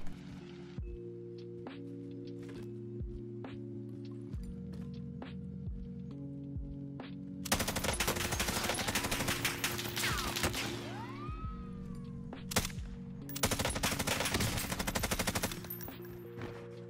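Bruen automatic rifle fire in the Call of Duty Warzone video game, long sustained bursts of rapid shots that grow dense and loud partway through, with a few single shots and a low steady hum beforehand.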